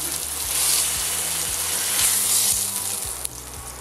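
Beef shank browns in a hot pan, a loud, dense, continuous sizzle that holds steady from start to finish with a small clink near the end and no talking.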